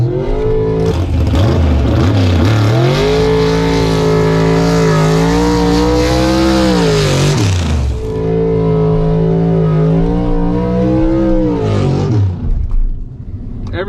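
A fuel-injected 1961 Corvette gasser drag racing down the track roars at high volume, revving up through several rising gear pulls with brief dips between shifts, then fades as it pulls away.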